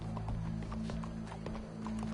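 Horse hooves clip-clop at a walking pace in the video game Red Dead Redemption 2, a string of soft, evenly spaced thuds over a low steady hum. There is no talk.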